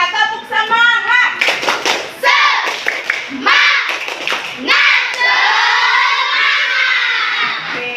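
Schoolchildren in a classroom perform the tepuk semangat clapping chant, bursts of rhythmic hand claps mixed with loud shouted group chanting, close and energetic, led by a teacher's voice.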